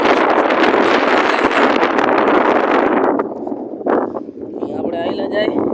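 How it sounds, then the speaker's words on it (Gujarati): Outdoor wind buffets the microphone in a heavy, continuous rush on a rural trip to drop off a buffalo, easing after a few seconds while a person talks. "ક્યારેક એવો વાયરો હોય"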